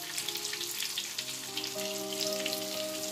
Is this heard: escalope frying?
yes